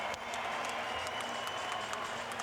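A basketball arena crowd cheers and applauds after a three-pointer, a dense sustained wash of clapping and voices throughout, moderately loud.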